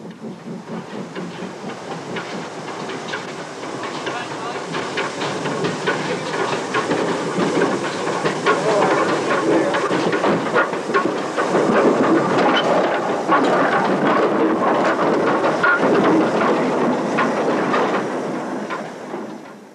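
A small Peckett 0-4-0 saddle tank steam locomotive, built in 1917, works at a coal-fired power station, with a steady hiss and rumble of chuffing and rolling wheels that swells and stays loud before fading at the end.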